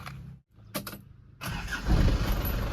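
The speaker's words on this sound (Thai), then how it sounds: "เดี๋ยวเราไปสตาร์ทฟังเสียงเครื่องยนต์กันนิดนึงนะครับผม" An Isuzu TFR pickup's 1995 2.5-litre turbo engine cranks after a short pause, catches, and rises into a loud running rumble, heard up close.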